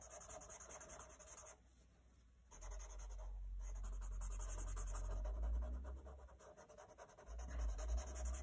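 Pencil being smudged and rubbed into shading on sketchbook paper, a soft, close, continuous scratchy rubbing with brief pauses and no talking.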